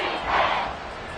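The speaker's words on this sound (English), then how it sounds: "This crowd turning up the decibel level." A stadium crowd in a Madden football video game roars as a steady, dense wash of cheering that swells slightly and then holds, with no clear talk over it.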